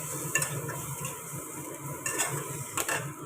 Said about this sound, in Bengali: এটা দিয়ে একটুখানি নাড়াচাড়া করে নেব